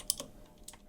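Keystrokes on a computer keyboard, a few quick sharp clicks in two small bursts, close and fairly quiet with no talking.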